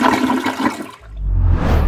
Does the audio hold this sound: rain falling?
no